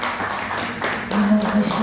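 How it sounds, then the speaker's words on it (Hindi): Applause welcoming a speaker at a press club event: a handful of sharp, spaced claps under a voice over a microphone. "दोस्तों जोरदार तालियों से स्वागत करें आप"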